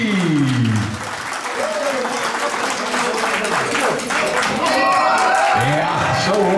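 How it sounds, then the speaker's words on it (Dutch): An audience applauds after a fight, sustained dense clapping from a crowd, loud and close, with an announcer's amplified voice talking over it and whoops rising near the end. "Maar ook een groot applaus voor Ritchie"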